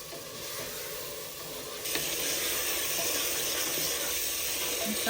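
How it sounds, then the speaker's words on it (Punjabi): Green chillies and tomatoes are dropped into masala in a pan, and the faint, steady sizzle swells suddenly louder as they go in, then keeps frying evenly without talk. "ਇਹਦੇ ਵਿੱਚ ਪਾਵਾਂਗੇ ਹੁਣ ਹਰੀਆਂ ਮਿਰਚਾਂ ਤੇ ਟਮਾਟਰ"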